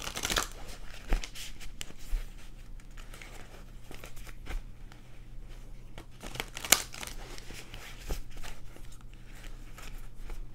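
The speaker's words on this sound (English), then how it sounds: "we're gonna shuffle these oracle cards" Soft, continuous shuffling of oracle cards, papery riffles and slides with scattered light taps, close and quiet with no talking.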